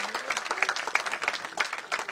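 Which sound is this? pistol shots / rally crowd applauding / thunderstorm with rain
rally crowd applauding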